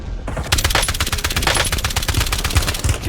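Rapid automatic gunfire in Call of Duty Warzone: a dense, continuous burst of loud shots at a fast, even rhythm, lasting nearly three seconds.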